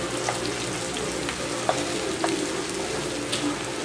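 Onions browning in a pan for home-made biryani give a soft, continuous sizzle with a few small pops and clinks, fairly quiet and with no talking.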